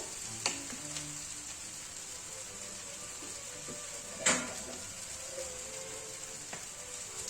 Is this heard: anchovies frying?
yes